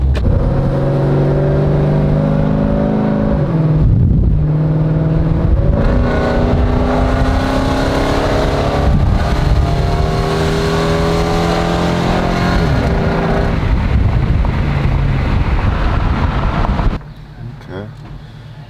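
Jeep Grand Cherokee with a 545RFE transmission cruising, engine droning loudly from inside as revs rise and shift through gears, with a sudden drop near the end.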